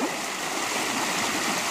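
Water pours over a roughly one-foot drop at a building ice jam, a steady, close rushing and splashing that fills the whole moment without pause.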